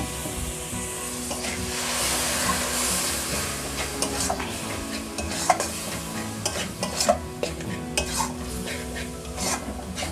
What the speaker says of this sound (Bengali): এবার আমি কড়ার মধ্যে অল্প পরিমাণে জল দিয়ে দেবো যাতে না মশলাটা বসে যায়।